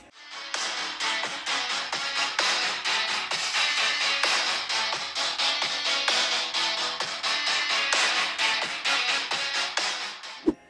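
Music playing through the small stereo speakers of a Doogee S110 smartphone, steady and fairly thin-sounding, continuous for about ten seconds with a brief knock at the end.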